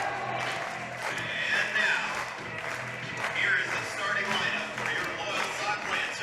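A crowd in a high school gym at a basketball game, a steady murmur of chatter and cheering with a few bursts of noise, heard from a distance under a broadcast commentator's voice.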